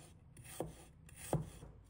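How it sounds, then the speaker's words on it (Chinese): A knife cuts a piece of fresh ginger into shreds on a board, giving two separate sharp chopping strikes about 0.7 s apart in a quiet room with no talking. "一块生姜，把它切成丝。"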